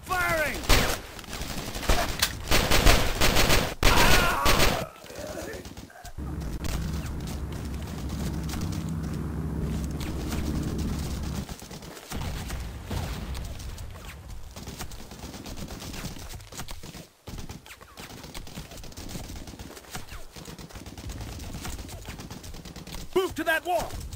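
Rapid gunfire from the Nintendo DS game Brothers In Arms DS, bursts of shots rattling near and loud through most of the stretch, with a low rumbling battle bed in the middle and shouted voices at times.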